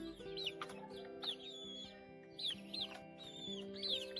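Several chickens clucking and squawking nearby in short repeated bursts over a steady low hum, with no talking.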